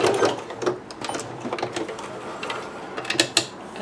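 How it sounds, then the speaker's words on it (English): Domestic sewing machine stitching a back stitch at the top seam of a Butterick 6322 garment, a close, uneven mechanical clatter with short bursts and brief pauses as the stitch reverses. "now we've reached the top seam, so stitch, do a back stitch"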